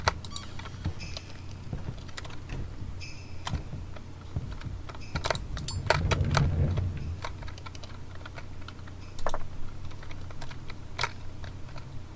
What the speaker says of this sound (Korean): 키보드 소리 들리니까 재밌어?